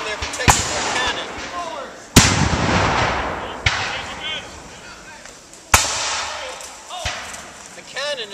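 Sharp cannon and musket booms at a Revolutionary War battle reenactment, heard as several sudden loud cracks spaced a second or more apart that ring out into a rumbling tail, with someone talking between them.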